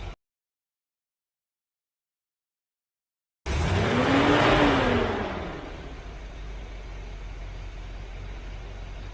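A Chevy 350 V8 in a C3 Corvette roars to life after silence, revs up loudly with a rising tone, then settles into a steady, rumbling idle close by.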